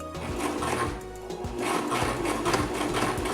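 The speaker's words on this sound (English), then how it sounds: "I'm going to put my presser foot back down and then continue sewing." A sewing machine stitching a wig tag onto a cap, running in a steady, close whirring hum with a rapid needle rhythm through the whole stretch.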